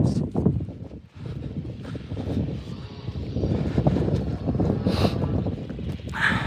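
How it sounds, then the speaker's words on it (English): Wind buffeting a microphone outdoors on a cattle farm during calving, a steady low rumbling roar that swells and dips throughout with brief lulls. "It might be a bit windy. You might not hear me."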